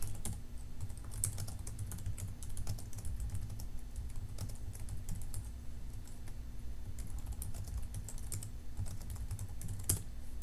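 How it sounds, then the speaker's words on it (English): Steady, continuous typing on a computer keyboard, with rapid keystrokes close by and an even rhythm throughout, over a low constant hum and no talking. "you'll just have to type it in"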